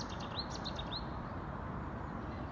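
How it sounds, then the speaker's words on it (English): Birds by a river at sunrise give three short, faint chirps early on, mostly buried under a steady, heavy low rumble like distant traffic. "And birds singing."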